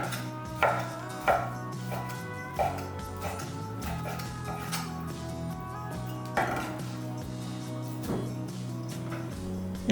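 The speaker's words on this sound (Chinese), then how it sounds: "一块鸡胸肉，重量大概250克，对半切开，再切成薄片" A knife slicing a 250-gram chicken breast into thin slices on a board, a few soft cuts and taps over a steady background hum, no voices.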